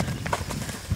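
Hooves of a black Lusitano mare, 1.57 m tall and pregnant, walking on a stud farm: a few soft, close clip-clop steps in quick succession over a low background rumble.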